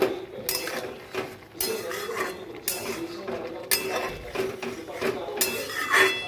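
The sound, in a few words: pot clinking while sprinkling ghee and taking curry off the heat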